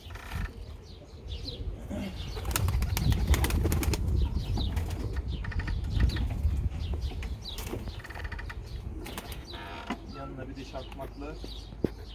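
Several pigeons burst into flight together, wings flapping in quick fluttering bursts close by, with someone talking over the sound.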